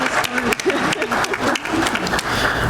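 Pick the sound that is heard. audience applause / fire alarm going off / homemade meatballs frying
audience applause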